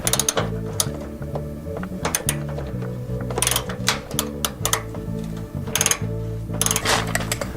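A ratchet wrench working a small 10 mm bolt loose, giving steady rapid clicking in short bursts with brief pauses, close and fairly loud with no talking.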